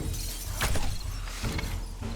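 Glass shattering in the video game 7 Days to Die, a couple of sharp bright crashes with tinkling debris over a low rumbling background, close and moderately loud.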